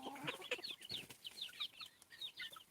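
Several hens cluck and chirp repeatedly on a Thai farm where ducks and chickens are fed ground water hyacinth, the calls fairly close and steady with no talking.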